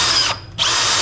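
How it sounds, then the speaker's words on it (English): A power drill runs loud and close in a workshop, a steady high whine that cuts out briefly mid-burst before spinning back up. "I'm gonna drill this one and then you got all the others."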